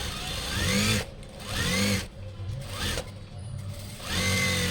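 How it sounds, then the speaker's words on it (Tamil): Sewing machine running in repeated bursts while stitching the sleeve of a doctor's coat, about four runs of steady whirring and needle clatter separated by short pauses, close and fairly loud. "அதுக்கு முன்னாடி வந்து ஒரு 1/2 இன்ச் கிட்ட ஒரு தையல் போட்டுக்கணும்."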